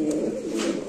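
An Afghan grizzle beauty pigeon, shown with a female in breeding mood, coos in a low continuous murmur, close and steady through the whole brief moment with no talk over it.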